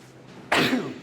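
A single sudden sneeze bursts out after a brief quiet, sharp and close, then trails off.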